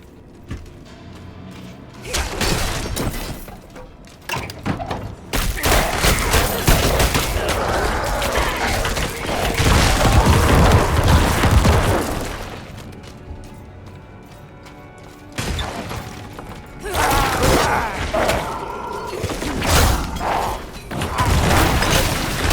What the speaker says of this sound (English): Corpus Explosion was an excellent addition to the toolkit.